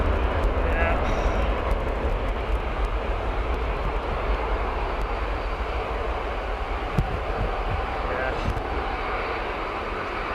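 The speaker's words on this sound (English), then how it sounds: "Lovely sound of the engines." Airplane engines at Manchester Airport produce a steady, loud, broadband roar that fills the whole stretch without pause, with a low rumble underneath.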